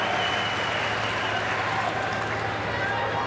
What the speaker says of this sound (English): he's getting a little cheer